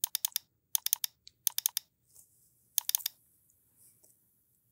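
Typing on a computer keyboard during 3D office modeling work: quick bursts of crisp key clicks in three or four clusters, separated by short pauses, close and clear.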